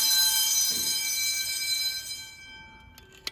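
Ringing fire alarm bells at a 1990s elementary school during an alarm test produce a loud, dense metallic clang that fades away over a couple of seconds, followed by a few faint clicks.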